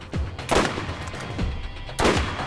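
A sniper rifle fires in the Borderlands shooter game: two sharp, loud cracks about a second and a half apart, with fainter shot impacts between them, booming up close.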